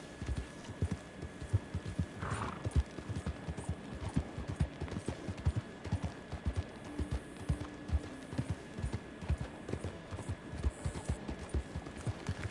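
A horse's hooves clip-clop at a steady trot in Red Dead Redemption 2. The even, close hoofbeats continue throughout at moderate loudness over a faint background hum.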